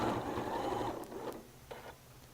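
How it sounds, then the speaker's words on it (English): A sewing machine runs in a steady rapid stitching burst while sewing doll fabric, then stops, leaving a few light mechanical clicks and handling noises close by. "if it can be shoved through the machine, I am going to try and do that"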